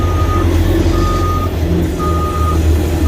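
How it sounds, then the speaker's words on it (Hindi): Ashok Leyland truck moving at a site, its reversing beeper sounding repeated steady tones over a loud continuous engine rumble. "अशोक लीलैंड की गाड़ी चल रही है दोस्तों।"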